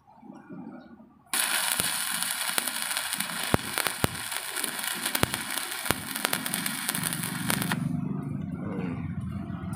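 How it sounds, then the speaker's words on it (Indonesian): Arc welding with a welding rod in the vertical position, a loud steady crackling sizzle that starts abruptly after a second, runs for about six seconds with sharp pops, then stops, leaving low background noise. "latihan menyalakan nyala dari kawat las"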